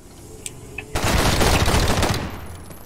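An AK rifle in the video game Decaying Winter fires a rapid automatic burst that lasts about a second. A couple of faint clicks come before it, and a short fading tail follows.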